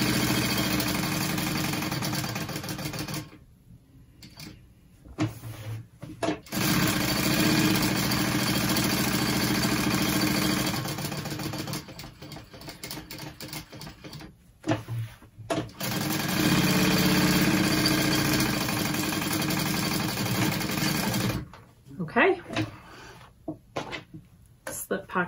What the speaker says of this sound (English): I'm just gonna go ahead and sew down all the edges.